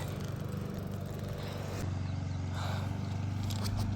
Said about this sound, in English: over there mowing the lawn